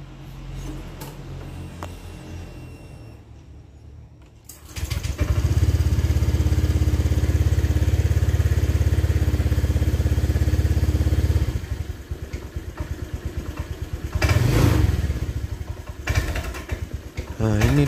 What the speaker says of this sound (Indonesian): Nah, ini teman-teman kendalanya di gas tuh nggak mau ya teman-teman ya, blebek gitu